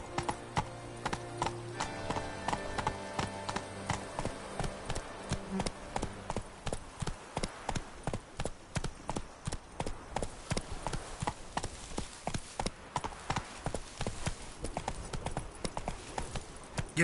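Rhythmic clip-clop of a horse's hooves galloping steadily in The Witcher 3 video game, the beats quick and even, with a brief musical tone at the start and no talking.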